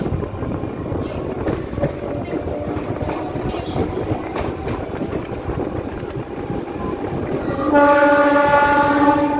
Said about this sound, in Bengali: আমাদের ট্রেন সিঙ্গুর ঢুকছে